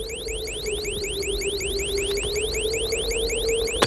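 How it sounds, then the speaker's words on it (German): Measuring instruments on a weather balloon emit a rapid, repeating electronic chirp, a steady stream of rising beeps over a continuous tone, heard clearly without any voices. "Aber die Messinstrumente piepsen einfach weiter."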